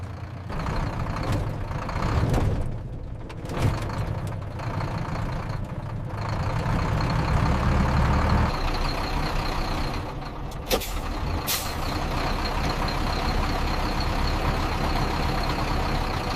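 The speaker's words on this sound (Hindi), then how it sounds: "कोई भारी गाड़ी आ रही है, ट्रक लग रहा है।" A heavy goods truck approaches along a road near a police checkpoint, its engine a steady loud rumble with a sharp air-brake hiss partway through, then continuing to drone close by.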